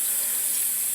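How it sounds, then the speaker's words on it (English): Water pours steadily from a watering can onto a Sungro number 4 micro-greens soil mix, a continuous close hissing splash that stays even throughout the short moment. "So you want to keep that water moving with your watering can"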